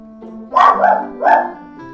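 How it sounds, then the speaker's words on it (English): German Shepherd guard dog barking twice, close and loud, two full-throated barks about half a second apart, with a quieter background hum before and after. "She's the German Shepherd, guard dog that we hire"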